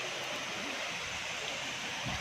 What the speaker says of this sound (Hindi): और यहाँ से आगे बढ़ने के बाद रॉक गार्डन का ये दूसरा झरना आता है